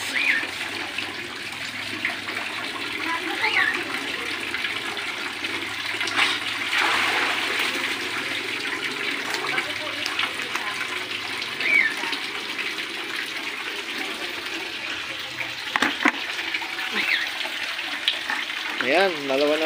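Water pours steadily into a tilapia fishing pond, a continuous rushing flow at moderate distance that swells and eases slightly, with people talking faintly over it.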